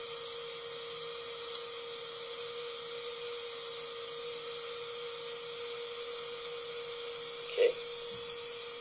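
A Zilog ZNEO 3-phase brushless DC motor spins steadily after reversing direction, giving a constant high electric whine with a lower steady tone beneath; someone speaks briefly near the end.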